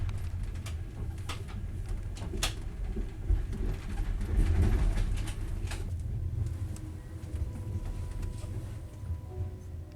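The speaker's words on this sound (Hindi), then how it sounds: "ट्रेन किसी रेलवे स्टेशन पर रुकने के लिए अपनी रफ्तार कम करती जा रही थी।" A train slowing as it pulls into a railway station in Russia, with a continuous low rumble and scattered metallic clicks and knocks across the stretch, plus faint cooing birds nearby.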